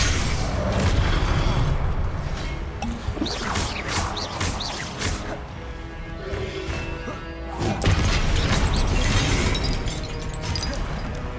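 Spell blasts crash and shatter through Hogwarts Legacy combat, a dense run of loud booming impacts and crackling bursts laid over a continuous game score.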